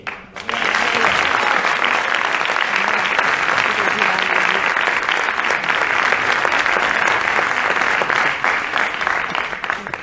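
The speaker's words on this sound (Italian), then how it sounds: "enorme applauso Costanza" A large theatre audience breaks into loud, sustained applause that fills the space and carries on steadily with a few voices underneath.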